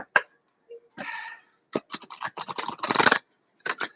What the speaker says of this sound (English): I already started your shuffle, Jane.